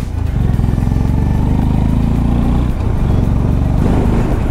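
A Honda CB350 motorcycle engine thrums steadily while riding on the road from Delhi to Rishikesh, a loud, close, even exhaust note with slight shifts in pitch and no speech.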